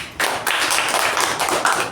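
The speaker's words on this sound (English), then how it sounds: "Let's all take a round of applause." Applause from a meeting audience, a dense burst of many hands clapping that starts abruptly and stays steady and close.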